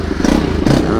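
A dirt bike engine runs close and loud with a rough, throbbing mid-range growl. It swells briefly twice, as if revved.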